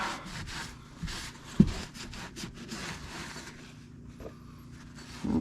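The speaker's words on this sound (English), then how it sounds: "Clean all the grease off." A rag wipes grease off a front differential part from a 2005 Kawasaki Brute Force 650 ATV, making close, intermittent scratchy rubbing strokes with a single sharper knock early on.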